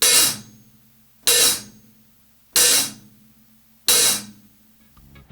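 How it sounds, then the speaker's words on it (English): Open hi-hat on a drum kit played with controlled pedal tension: four bright, washy cymbal hits evenly spaced about a second apart, each quickly choked, close and clear with no talk. "This will make a nice controlled hi-hat opening."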